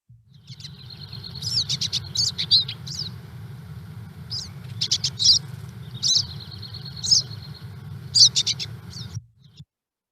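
A recorded house finch call plays as a series of bright, high chirps and short warbling notes over a low steady hum, stopping abruptly at the end.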